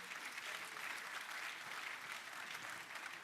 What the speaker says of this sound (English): Can we give her one round of applause